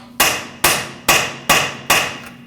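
Five firm hammer taps on a seated rear axle bearing of a 2009-2010 Dodge Ram 1500, evenly spaced about half a second apart, each ringing briefly before the next strike.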